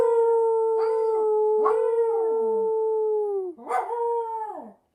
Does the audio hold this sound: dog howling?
yes